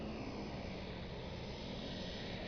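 A propeller airplane flies close by with a loud, steady engine drone that fills the whole short stretch without a break.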